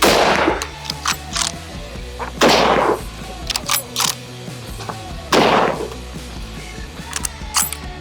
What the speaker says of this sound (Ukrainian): Можна зробити три постріли підряд та подивитися, як то буде з цією кутою.